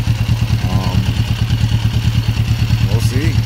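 A 1994 Kawasaki Vulcan 500 motorcycle engine idles close by with a quick, even, thumping rhythm. A voice cuts in briefly.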